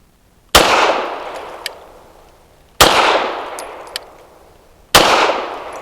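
Three loud, close gunshots from a KOR FX-9 pistol firing Norma/Ruag rounds, each a sharp crack with a ringing decay and spaced about two seconds apart, with faint casing clinks between shots.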